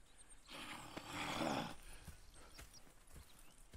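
A horse whinnies and snorts loudly in Red Dead Redemption 2, followed by quieter hoof clops and shuffling, with a synthetic, game-like quality and no talking.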